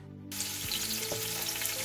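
Onions hit hot oil in a pot for Hokkaido pumpkin soup, and a sudden burst of loud sizzling starts after a short quiet, then holds steady and close with faint stirring knocks.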